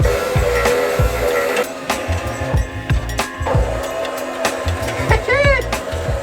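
A snowblower motor mounted on a front loader runs steadily, a mechanical drone broken by repeated knocks and rattles, with a brief rising whine near the end.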